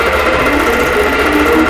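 Quilting machine stitching a ghost pantograph pattern, a steady, close motor hum with a rhythmic mechanical pulse throughout, no voices.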